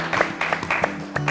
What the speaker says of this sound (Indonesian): Sekarang kita tepuk tangan untuk kita semua ya